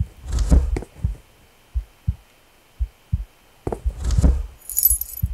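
Keys jangle with a bright metallic rattle as they are picked up in the horror video game Which, two bursts of clinking heard over a soft, steady low heartbeat thump.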